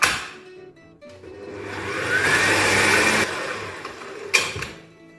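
Margarine, flour and a pinch of salt being mixed for almond tart dough, likely by an electric mixer, whirring steadily at close range, rising and holding for a couple of seconds before easing off, with a brief louder clatter near the end.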